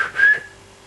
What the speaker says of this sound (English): Just then, he heard a whistle.